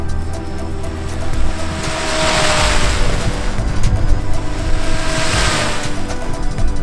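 A Goosky RS4 RC helicopter flies a speed run, its loud rotor and motor producing a broad rushing whoosh that swells twice as it passes close, with steady turbulent noise between.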